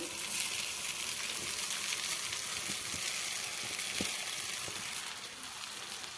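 Loosened poha tipped into a hot kadai, giving a broad, steady frying hiss with a few light taps of a spatula, fading slightly toward the end.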